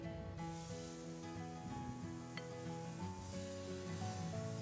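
Crepe batter sizzles in a lightly oiled nonstick frying pan, a soft, continuous frying hiss close by. A steady background tone and faint scraping run alongside it, and no one speaks.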